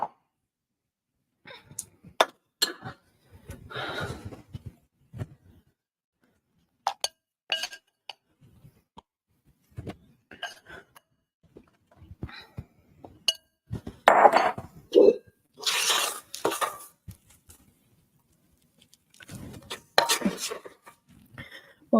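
A small spatula scrapes chocolate cake batter from a mixing bowl for a chocolate caramel loaf, giving scattered, intermittent scrapes and light clinks with quiet pauses between strokes.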